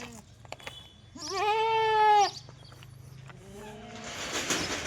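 A goat gives one loud, drawn-out bleat up close, followed by a fainter, shorter bleat, against a low rumble of background noise.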